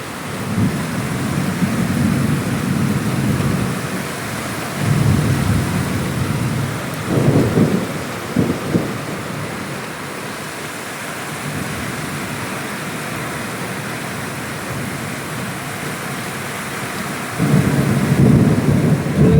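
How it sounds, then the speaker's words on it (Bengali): A heavy downpour roars continuously while deep thunder rumbles in several rolling bursts, with no voices. "আপরে কি বৃষ্টি, তার সাথে বাজ পড়ছে, বিদ্যুৎ চমকাচ্ছে।"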